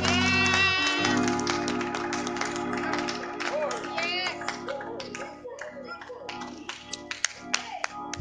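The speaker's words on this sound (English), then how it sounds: "Come on and clap those hands." Church congregation clapping during a worship song, sharp separate claps growing more distinct after sustained music with singing fades, some nearby and loud.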